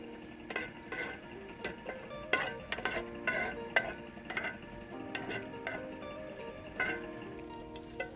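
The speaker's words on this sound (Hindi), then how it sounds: "ये फूल मखाने हम इसमें डाल के इसको फ्राई कर लेंगे देसी घी में" Fox nuts (makhana) frying in desi ghee in a pan, with scattered light sizzling, stirring scrapes and small clinks of a spoon against the pan throughout, close and fairly quiet with no talking.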